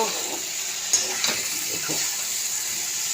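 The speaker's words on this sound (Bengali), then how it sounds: "আবার নাড়াচাড়া করে নেব।" Fish frying in a pan, with a steady close hiss and a few brief scraping stirs.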